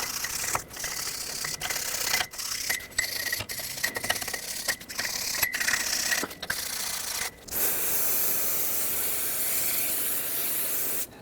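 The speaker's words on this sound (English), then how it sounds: "I'm going to take a wire brush and wire brush all of this and then rinse it with some brake parts cleaner" Wire brushing on the front hub of a 2011-2016 Ford F-350 gives a run of scratchy strokes broken by short gaps, then a steady hiss of brake parts cleaner being sprayed onto it, close and loud.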